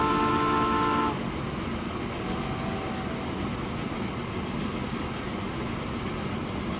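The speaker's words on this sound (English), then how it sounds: "following the oil train along, the 40-year-old oil train" In the Transport Fever video game, a 40-year-old oil train rumbles steadily along the rails, opening with a short harmonic horn toot before settling into a continuous rolling drone.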